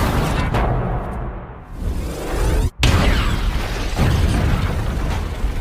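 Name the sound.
explosion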